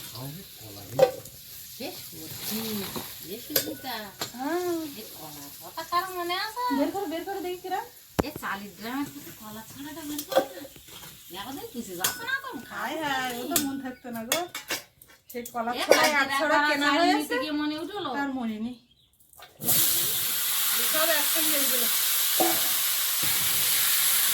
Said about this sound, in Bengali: আলুটা লাল লাল ভাজা হয়ে গেছে উঠিয়ে নেবো